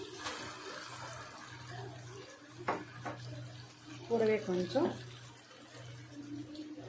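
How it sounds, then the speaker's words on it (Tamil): Water from rinsing a mixer jar pours and splashes into a cooking pan of mango ginger thokku amid a steady low hum, while a person speaks briefly over it. "மிக்சி ஜார் கழுவின தண்ணியும் சேர்த்துக்கலாம் சேர்த்துட்டு நல்லா கலந்து விட்டுக்கலாம்"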